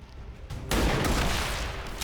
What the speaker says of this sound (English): Achievement unlocked, sniped a robot.